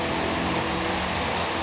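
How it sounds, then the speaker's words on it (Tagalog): Heavy rain pours down in a dense, steady hiss, loud and close, with no voices or pauses. "Malakas ang ulan."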